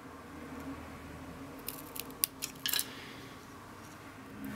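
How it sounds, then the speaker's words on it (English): Scissors snipping a banner end into a paper strip for a stamped card, a few quiet, sharp crisp cuts clustered near the middle over a soft background hush. "I'll trim a little banner end on this strip"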